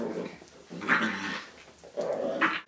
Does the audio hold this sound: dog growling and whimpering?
yes